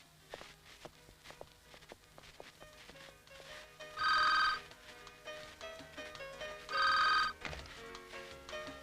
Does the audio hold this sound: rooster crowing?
no